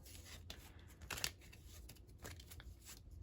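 Soft riffling of tarot cards being shuffled, faint and close, with a few quick flicks and no voices.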